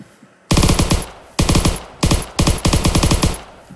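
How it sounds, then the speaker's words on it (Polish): A PPSh-41 submachine gun in a Minecraft weapons mod fires several rapid, loud bursts of evenly spaced shots, separated by brief pauses. "Akurat tak mi się trafił PP SH-41."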